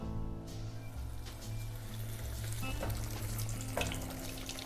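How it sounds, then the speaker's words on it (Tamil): Cornflake-coated bread ice cream bubbles in hot oil while deep-frying, a steady close sizzle with soft crackles and a low hum throughout. "இப்போ இதை நம்ம பொரிச்சு எடுக்கலாம்."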